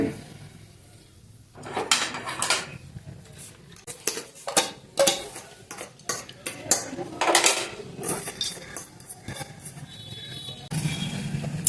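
Ingredients for lentil curry go into a pressure cooker in a kitchen, with repeated loud clatters and clanks of metal pots, lids and spoons in irregular bursts, close by, and faint talk in places.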